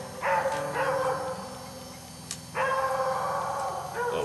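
A dog barks in sharp, yipping bursts nearby, a couple of clusters separated by a short pause, with whining between them.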